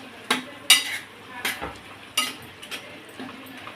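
Tomato chutney being stirred in a pan, a spoon scraping and clinking against the metal in several sharp, separate strokes with a soft cooking hiss between them, close by and with no talking.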